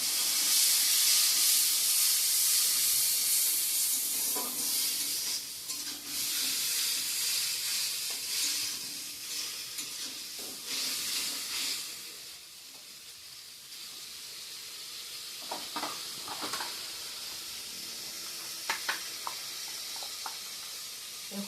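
Tomato, chili and garlic spice paste frying in a pan, a loud steady sizzle and hiss that eases off over time, with occasional stirring scrapes close by and no talk.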